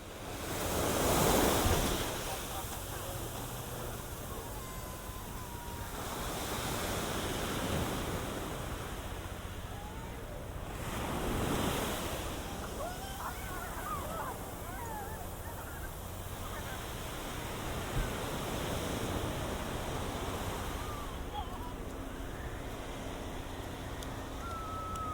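Ocean waves roll and break on Waikiki Beach in Honolulu, Hawaii, with steady surf wash and a few louder swells cresting every several seconds, plus light wind noise and faint distant sounds behind.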